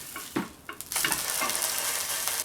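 A homemade salmon burger is flipped in a frying pan with a couple of soft thuds, then a loud steady sizzle takes over and holds close up, with no talking.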